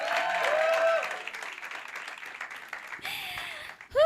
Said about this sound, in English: Let's give a round of applause for Vuyo.